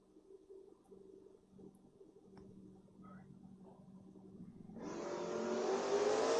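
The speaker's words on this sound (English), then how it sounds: "Good, clean drag race, 18 to a 24." Drag racing cars, including a notchback Mustang, launch and accelerate hard down the strip at the King of the Creek event, a loud engine roar rising sharply partway through after a quieter stretch of idling and ambient noise.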